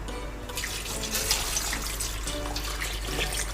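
Steady stream of water poured onto meat in a pot while cooking ofada (ayamashe green pepper) stew, a continuous close splashing and trickling rush with no talk.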